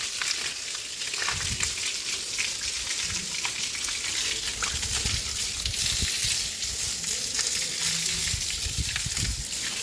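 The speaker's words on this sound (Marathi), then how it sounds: "इकडून पण मारूया पाणी" Water splashes and gushes steadily while a buffalo gets a bath, a broad wet spray running continuously at close range with uneven surges and no talk.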